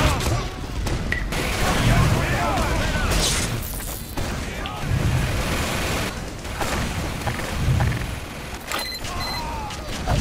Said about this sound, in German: Wir geben dem Prio hier jetzt mal einen Headshot.